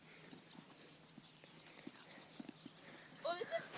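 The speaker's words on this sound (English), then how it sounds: "So I can trot on my horse." Hooves of a ridden horse clip-clop in a steady, light trotting rhythm, fairly faint and close, with voices rising near the end.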